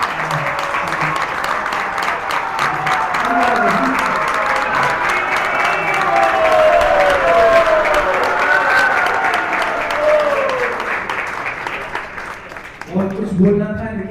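A large audience applauds the chief guest at a welcome event, sustained heavy clapping with a voice talking over it, the applause thinning toward the end.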